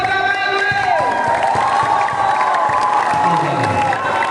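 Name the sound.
applause and cheering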